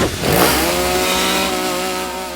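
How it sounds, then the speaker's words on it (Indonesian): A chainsaw in a horror film scene is started with difficulty, a short sputtering pull that catches into a loud, steady engine drone, heard close and alone. "ia mencoba menyalakan gergaji mesin namun kesusahan"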